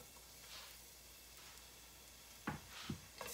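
Garlic dropped into an oiled pan gives a faint, quiet sizzle with a few short bursts of stirring and scraping near the end.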